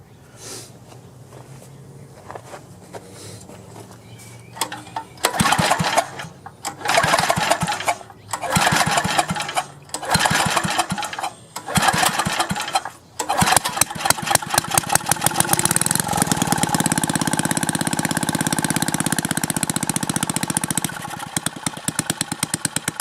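A Craftsman gas edger with an Eager-1 engine is pulled several times with a half-on choke, each loud ratcheting burst sputtering, until it catches and settles into a steady, loud, close idle.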